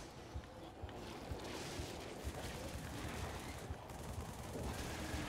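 Assault rifle fire in Halo 3 rattles in quick repeated bursts, fairly faint beneath a broad wash of battle noise and wind-like rumble.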